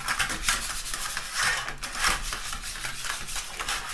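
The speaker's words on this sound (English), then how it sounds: "What I'm going to do is just use the top of the butter. Some butter on there. Lightly grease the pan." Butter is rubbed over a metal baking tray to grease it, giving repeated soft, close scraping and smearing strokes in an uneven rhythm.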